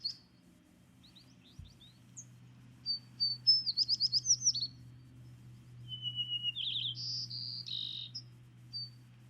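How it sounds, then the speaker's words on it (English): A played recording of a song sparrow sings in clear bursts, bright trills and a fast run of repeated notes, over a steady low hum with faint insect-like buzzing beneath. "Is it a song sparrow? Yeah, it's a sparrow."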